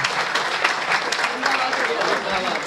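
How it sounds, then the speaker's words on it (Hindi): An audience at a Hindi comic poetry gathering applauds a poet, a steady wash of clapping filling the short stretch at moderate loudness. "आप तालियां उतनी बजाइए जितनी हेमंत पांडे"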